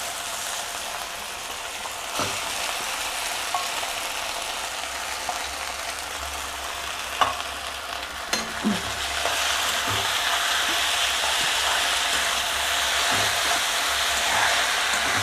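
Grated raw mango frying in a little oil in a pan, a loud continuous sizzle with occasional spoon clinks and stirring scrapes, close and unbroken by talk.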